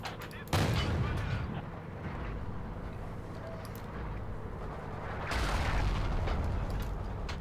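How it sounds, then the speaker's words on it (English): Battlefield gunfire in the WWII multiplayer game Forgotten Hope 2, loud sustained bursts of rifle and machine-gun shots with rumbling blasts, alone and continuous throughout. "Okay, they're shooting back."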